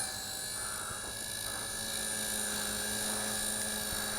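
A JJRC JX02 beginner's four-channel RC helicopter flies outdoors, giving a constant high-pitched motor and rotor whine that stays steady and fairly near throughout.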